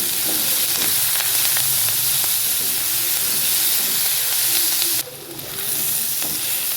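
Semolina upma is stirred in a hot pan, with a loud, continuous steamy sizzle and hiss and soft scraping strokes. The sound briefly dips near the end before resuming.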